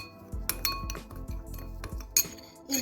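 Spices for salting mackerel stirred together in a bowl, with steady clinks and scrapes of a utensil against the dish, close and unhurried, no talking.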